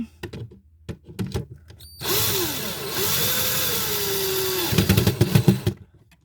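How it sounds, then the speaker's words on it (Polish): A cordless screwdriver drill drives screws while a surface-mounted electrical distribution board is wired, whining up in a long rising and falling run between short clicks and knocks, loud and close with no voices. "wkręcamy wkrętareczką"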